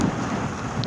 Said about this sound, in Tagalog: Ayan kapatid, abutan kami ng bagyo.